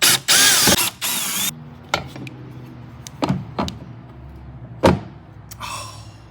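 A power tool whirs in short, loud bursts as screws are backed out of a plate on a Bonafide PWR 129 kayak during a trapdoor install, followed by scattered clicks and metallic clatter.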